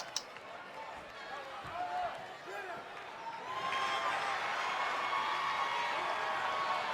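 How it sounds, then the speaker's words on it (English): Arena crowd cheering in the WWE 2K20 wrestling video game during an NXT match entrance, a broad roar of noise that swells and holds steady at full strength after a few seconds, with a commentator talking over it. "Well, the crowd goes wild."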